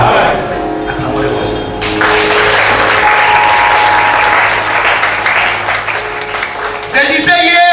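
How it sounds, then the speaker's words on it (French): A church congregation gives loud, sustained applause that swells after a couple of seconds and carries on for several seconds before tapering, with a voice speaking near the start and end. "Acclamons-le."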